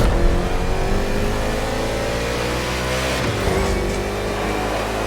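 A race car engine in a NASCAR video game roars loud and continuous, revving hard with steady high-pitched engine whine and shifting pitch throughout, no voices.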